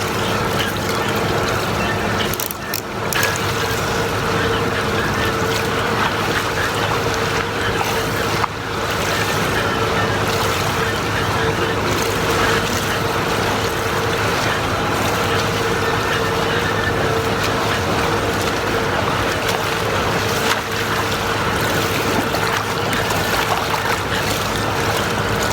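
Snorkeling in open water with a 2018 PowerBreather snorkel, heard as a steady, loud wash of water noise with a faint constant hum and a couple of brief splashy bursts, no talking.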